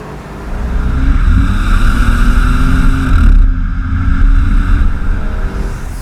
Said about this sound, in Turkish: egzozdaki o uğultu, o patırtılar size keyif veriyor